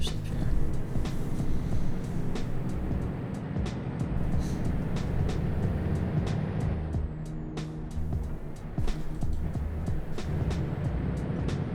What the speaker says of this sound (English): let's go ahead and put it in drive here, and let's go ahead and drive off